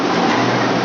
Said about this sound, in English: We are going to KL Central, and the train is arriving.